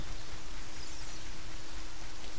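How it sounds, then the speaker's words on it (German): Steady rainfall in the video game The Legend of Zelda: Ocarina of Time, a continuous even hiss of falling rain with no talk over it. "Und es regnet."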